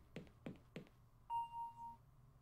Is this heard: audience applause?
no